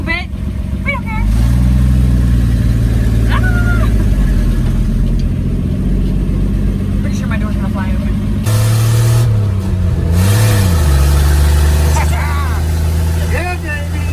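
An old Ford F100 pickup that sat abandoned in a junkyard for about 50 years drives in light rain, its engine rumbling loudly and revving steadily under excited talk from the people inside the cab.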